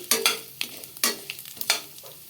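Urad dal, chana dal and cumin seeds stirred in hot oil for methi avalakki kadabu: a soft sizzle under repeated scraping strokes of a spoon against the pan, in short bursts about every half second, close and alone.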